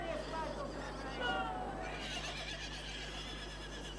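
Horses neigh and whinny loudly and close at hand, one drawn-out call rising then falling, with faint hoof clip-clop beneath and a steady background hum.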